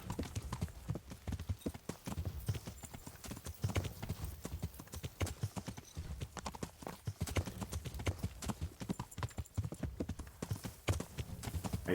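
Horse hooves gallop in a rapid, steady clip-clop rhythm in the video game Kingdom Come: Deliverance, close and continuous with no voices.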